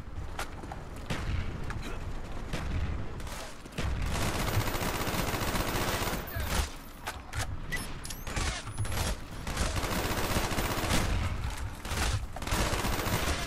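Minigun and other gunfire in a Black Ops video game bot survival mod: continuous, dense, loud rapid-fire bursts with mechanical clatter, barely pausing across the whole stretch.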